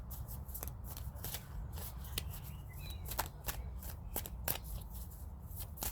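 Tarot cards shuffled in a steady run of crisp riffling flicks over a low background hum, close and fairly quiet, with no talking.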